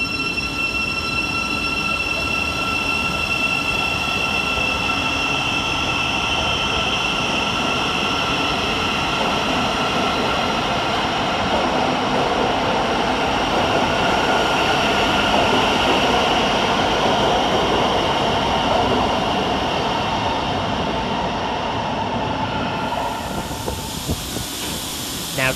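An electric Thameslink passenger train rumbles steadily through London St Pancras station, with a constant hiss and faint high whine, loud and continuous throughout.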